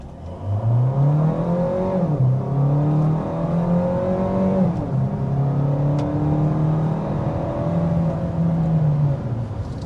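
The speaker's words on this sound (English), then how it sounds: "Alright, so that was an acceleration up to 60 miles per hour." A Hyundai Sonata Limited hybrid sedan accelerates hard to 60 mph, its engine note rising and falling in steady pitch sweeps through several gear changes, close and loud with no talking.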